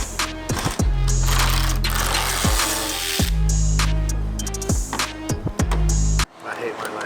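Hardware being taken off a BMW G80 M3's front bumper, close ratchet clicks in repeated bursts with short pauses between them, loud and up close, then a softer rustle at the end.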